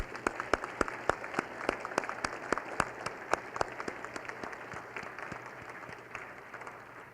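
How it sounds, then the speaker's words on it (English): Sustained audience applause at a National Academy of Engineering awards ceremony for the 2015 Draper Prize winners, a steady wash of many hands clapping with sharp individual claps standing out, gradually fading toward the end. "please join me in one last round of applause for these Draper Prize winners"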